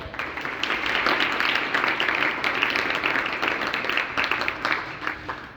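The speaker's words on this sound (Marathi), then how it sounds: "असं काहीतरी वेगळं झालं की टाळ्या वाजतात" An audience at a live Marathi poetry recitation breaks into sustained applause, a dense, even wash of clapping that holds for several seconds before thinning out at the end.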